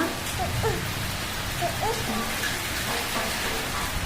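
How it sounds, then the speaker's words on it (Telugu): Steady rain falls outdoors, a continuous fine patter at moderate level with a couple of faint bird-like chirps in the background. "చూడు వర్షం ఎలా పడుతుందో"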